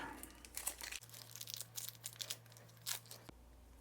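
Close crinkling and rustling of a plastic bag holding a fountain pen, irregular crackles as it is handled and pulled open, with a faint hum in the background.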